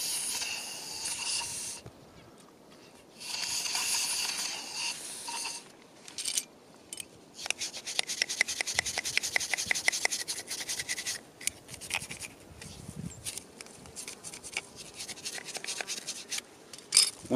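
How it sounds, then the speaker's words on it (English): A nylon brush scrubs rock dust from a drilled bolt hole in cave rock, giving close scratchy, hissing rubs in irregular bursts with brief pauses between strokes. "use a nylon brush to clean it a little better"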